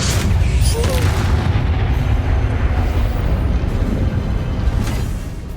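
Loud, sustained fiery blast from the Incendio fire spell in the Hogwarts Legacy video game, a dense roaring rumble lasting several seconds with booming impacts, fading slightly at the end.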